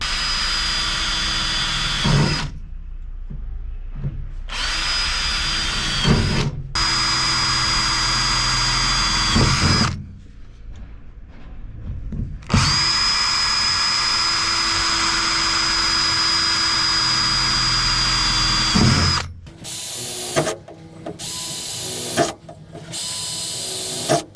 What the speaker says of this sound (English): get my drill and just drill a few holes